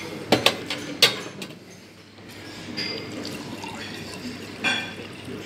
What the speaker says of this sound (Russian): Я вот наливаю сейчас.